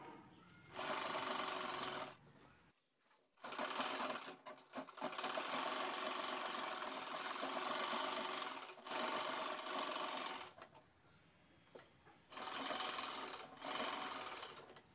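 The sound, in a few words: sewing machine stitching tote bag lining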